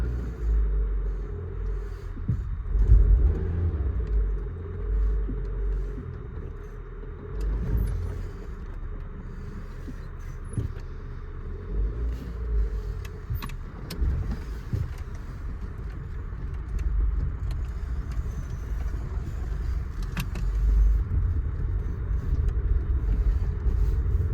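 A car with an ABS fault drives out onto the road, its engine and tyre rumble holding steady and close throughout, with no talk over it.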